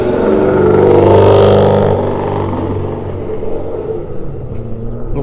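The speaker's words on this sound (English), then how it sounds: "Little muscle car going by." A muscle car rumbles past on a small-town main street, its engine swelling loud and close before fading into a lower, steady drone as it moves away.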